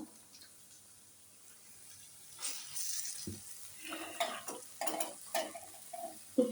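Chicken in a masala of chili powder, salt, ginger-garlic paste, garam masala and yogurt is stirred and fried in a pan. After a quiet start come irregular scraping, stirring and soft sizzling bursts at close range, with no voices.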